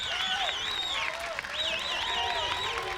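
A crowd at a 14U softball championship game whistles, cheers and claps in a continuous, lively roar from the stands, with no one speaking over it.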